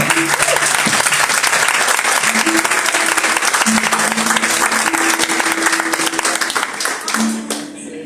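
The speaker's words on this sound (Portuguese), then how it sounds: "Vamos aplaudir o Senhor?" Church congregation applauding during a worship service, loud continuous clapping from a full room with a sustained organ or keyboard tone underneath, the applause thinning and fading near the end.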